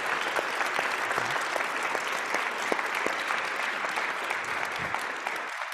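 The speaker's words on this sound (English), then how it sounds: "a round of applause for the Q&A." A town hall audience applauds steadily after a Q&A, a dense wash of clapping that holds at an even, fairly loud level throughout.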